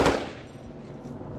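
Gunfire in combat in Afghanistan, with Marines under intense Taliban fire near a compound wall: a loud, close burst of shots at the start, then a sustained rumble of echoing fire.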